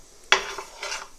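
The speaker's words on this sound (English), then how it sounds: "they've started to sizzle cardamom seeds." Cardamom seeds sizzle softly in hot desi ghee in a pan while semolina halwa is being made. A sharp metal clink of a utensil comes first, followed by a faint, steady frying hiss that swells briefly near the end.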